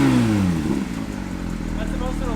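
Stock exhaust of a Porsche 992 GT3 with its exhaust valve open, giving a loud, close rev that climbs and then settles into a sustained high-rpm drone for the remainder.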